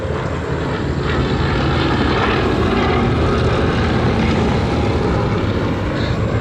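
A Fairey Swordfish biplane flying at the Battle of Britain air show at Duxford, its propeller engine making a loud, steady drone that holds throughout without pause.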